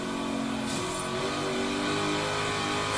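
A Shelby in Forza Horizon 3, engine with a flat plane crank, revs hard and holds a loud, smooth, high-pitched drone with rising pitch, close and continuous over three seconds with no talk.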